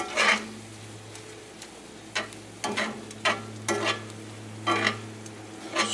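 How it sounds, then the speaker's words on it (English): Linguine is tossed and mixed in a hot saucepan, rhythmic scraping stirs breaking over a low, continuous sizzle, heard up close and alone. "Okay, mix that linguine in there."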